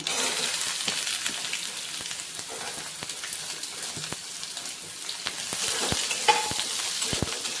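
Chopped onion hits hot oil with mustard seeds and cumin in a pan while making poha, giving a steady close sizzle with stirring scrapes and occasional sharp ticks and pops throughout.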